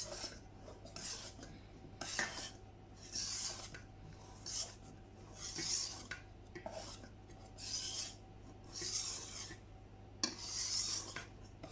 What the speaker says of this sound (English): I'm just gonna gently fold it in with my whisk initially